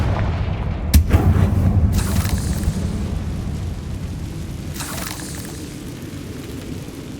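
Fire-spell explosions from the Hogwarts Legacy video game: a sharp booming burst near the start, a second blast shortly after and a fainter one later, over a low rumbling game soundscape.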